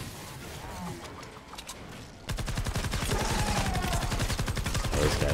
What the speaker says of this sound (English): this guy's firing from a distance